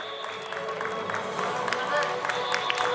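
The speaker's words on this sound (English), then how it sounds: "Let's welcome Karan with the loudest applause of the day." Applause at an award ceremony, crowd clapping and cheering in a hall with mixed babble and a tonal hum, steady and moderately loud throughout, with voices mingling in.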